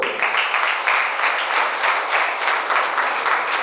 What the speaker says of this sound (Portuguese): que poder aplaudir o Senhor